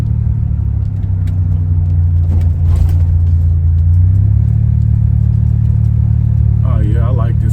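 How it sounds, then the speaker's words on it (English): A Buick Grand National rolls along on a test drive after rear suspension work, giving a loud, steady low engine and road rumble inside the cabin, with a brief rise in pitch midway and a voice speaking near the end. "I'm going to go ahead and do this test drive"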